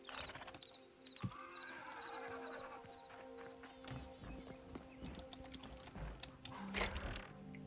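Horse in the video game Hytale whinnying and clip-clopping, a neigh near the start, then faint hoof steps and game sounds at moderate level with no talk.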